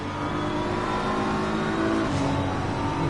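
Lamborghini and BMW race cars in a sim racing game at Spa-Francorchamps, engines droning loud and steady with a rising whine near the end, no voices.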